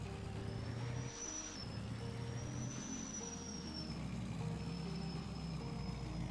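Truck engine in Farming Simulator 22, a loud steady low rumble with a thin high whine riding on top, sustained without a break and close throughout.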